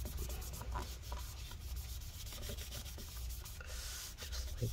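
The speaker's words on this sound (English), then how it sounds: "we're just going to add rubbing alcohol to this again. Okay, clean that off." A towel dampened with rubbing alcohol rubs residue off a 13-inch mid-2017 MacBook Pro A1706, a faint, continuous close-up scrubbing and rubbing with no talking.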